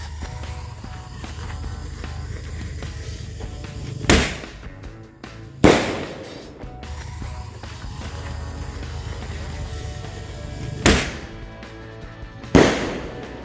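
Ball-launching firecrackers go off at night in four sharp, loud bangs spaced a second or several seconds apart, each ringing out briefly over a steady background rumble.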